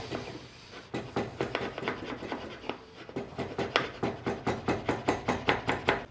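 A wood chisel carves a sloped ramp into a decorative wooden edge, producing close, crisp scraping cuts that start irregular and settle into an even rhythm of repeated strokes.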